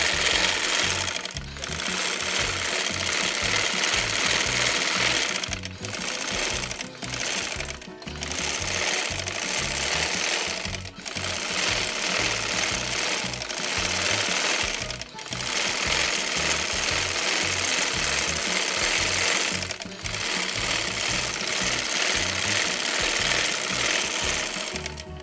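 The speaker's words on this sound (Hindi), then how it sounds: "ये देखिए इसको भी हम डबल सिलाई लगा के नीट कर लेंगे।" A sewing machine double-stitches a baby girl's dhoti salwar, its needle hammering in a fast, steady mechanical rhythm broken by several brief pauses between runs of stitching.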